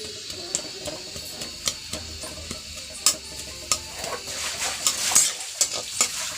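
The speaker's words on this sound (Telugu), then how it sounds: "ఉల్లిపాయ, కొంచెం పచ్చిమిర్చి వేసుకొని మీరు వేపుకోవాలి" Onions and green chillies fry in a pan, a close steady sizzle broken by frequent sharp clinks and scrapes of a spoon stirring, with no talking.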